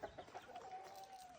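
A rooster gives a few soft clucks and then a drawn-out crowing call, faint and somewhat distant.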